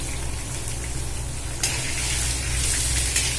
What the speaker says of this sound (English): See friends, the green chilies goes in.